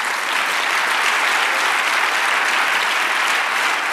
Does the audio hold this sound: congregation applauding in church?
yes